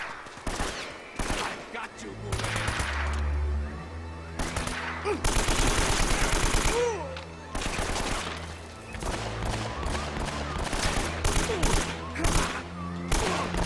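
Gunfire in the Uncharted: Drake's Fortune video game rattles in dense bursts and single shots over game music and effects, with a player talking over the action.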